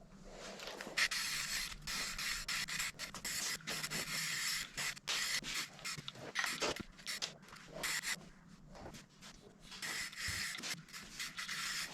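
Flat black paint sprays onto a 1972 Ford F100 dash bezel in a series of short, hissing bursts with brief gaps, close and fairly quiet in a paint booth.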